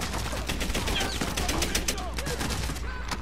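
Rapid automatic gunfire in the World War II shooter Medal of Honor Airborne, with a steady stream of sharp, close shots lasting about three seconds.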